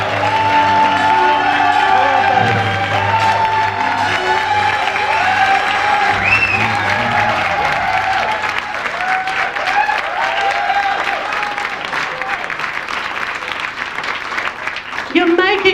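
A large audience gives a stage performer loud, sustained applause with cheering and whoops, the clapping dense and continuous throughout while a voice speaks over it.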